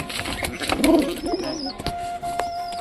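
A pigeon coos up close in a few low, throaty bursts, with faint chirps and rustling in the background.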